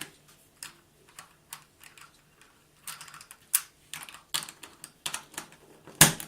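A LanLan Skewb puzzle cube being turned by hand, producing a sequence of crisp, close plastic clicks in irregular bursts, each turn a sharp snap with short pauses between, ending in a louder click.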